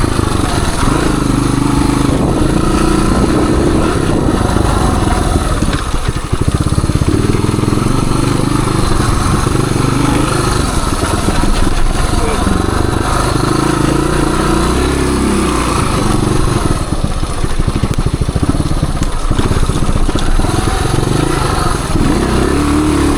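A 1978 Suzuki DR370 motorcycle engine runs loud and close throughout, rising and falling in pitch as it revs and pulls ahead, with rumbling and wind noise.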